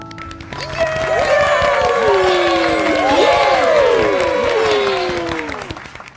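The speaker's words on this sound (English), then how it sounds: "Everyone claps and cheers for her." A crowd claps and cheers for a woman who sings loudly and dances, with shouts and whoops rising and falling over steady applause throughout.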